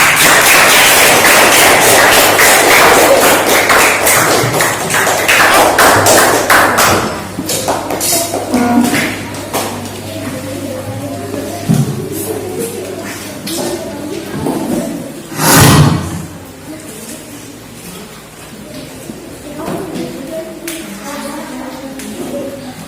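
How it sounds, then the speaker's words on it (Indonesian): A classroom gives a group of students a round of applause, a loud dense burst of clapping that fades over several seconds into scattered taps and thumps, with a sharp knock near the middle. "tepuk tangan untuk kelompok kinestetik"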